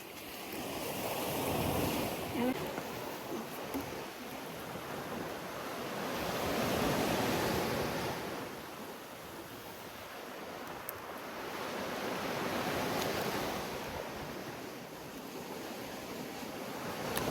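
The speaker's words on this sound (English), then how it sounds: "The sound of the sea." Sea waves on a beach in Kefalonia, Greece, rolling surf that swells and recedes in slow broad washes, with some wind noise, no voices.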